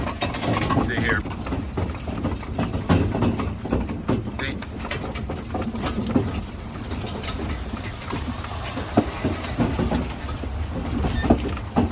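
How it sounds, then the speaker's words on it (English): Haflinger horses pull a wagon on a winter ride, their hooves clip-clopping in a steady rhythm among rattling wagon noise and a wind-filled outdoor background. "Good day to work horses."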